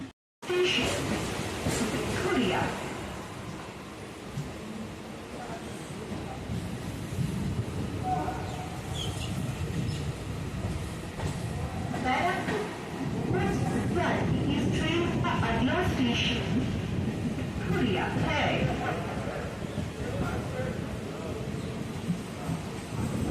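A fast Kolkata suburban local train on the Barrackpore line in the Sealdah division, heard from on board: a continuous low rumble and rattling clatter of the moving train, with people talking over it.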